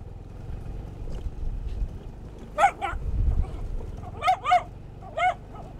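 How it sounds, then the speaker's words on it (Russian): Dogs barking in a rural village near a ferry crossing, giving several sharp, separate barks over a low, steady engine rumble. "Собаки на них бегают."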